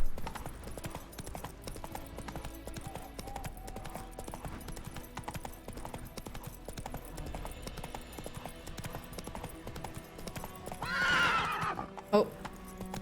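Roach the horse in The Witcher 3, hooves clip-clopping at a steady pace under background music, then a loud neigh near the end; a voice speaks briefly.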